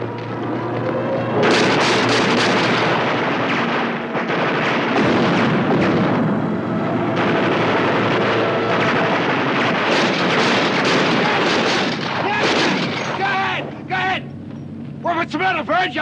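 Gunfire on a navy-base island in a 1960s sitcom: loud, continuous heavy blasts and rumbling booms, with people shouting and talking over them, thinning into scattered bursts near the end.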